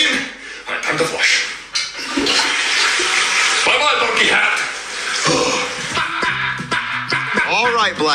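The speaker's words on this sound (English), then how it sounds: "time to flush." A toilet flushes in a cartoonish comedy scene, its rushing water churning steadily through about eight seconds beneath overlapping voices and background sound.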